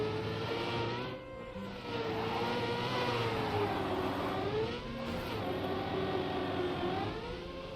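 A car in a racing video game whirs at full speed, a high steady engine whine rising and falling in pitch as it speeds along, moderately quiet with no talking.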